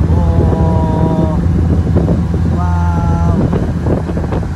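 Wind buffets a boat heading out of a river toward open water, a steady low engine drone underneath with roaring gusts and splashing spray, while voices talk over it throughout.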